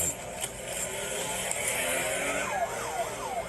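A police car siren wails during a chase, the rising and falling tone sweeping repeatedly over steady road and engine noise, moderately loud, with no talking.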